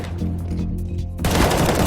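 Video game gunfire shot through a wall during a competitive esports match breaks in suddenly partway through as a loud, dense burst of rapid shots over a steady game background.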